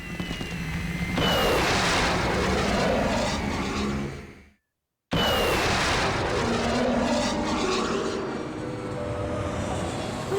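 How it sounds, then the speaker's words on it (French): A cartoon house lifts off into the air with a loud, roaring rumble like an aircraft taking off. The sound swells, breaks into a brief full silence, then comes back just as loud and trails off with high whooshing tones. "Messieurs, je peux me tromper, mais j'ai comme l'impression que la maison s'apprête à décoller."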